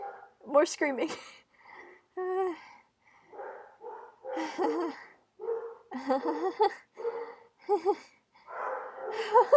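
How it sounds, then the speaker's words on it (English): Several dogs barking and yipping excitedly in the background of a home gaming stream, bursts scattered across the clip while a person's voice is also present. "And my dogs are going insane in the background."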